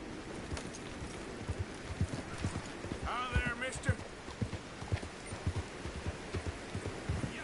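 Horse hooves clip-clopping in the video game Red Dead Redemption 2, a steady run of close thudding hoofbeats with a brief snort or whinny partway through and talking over it.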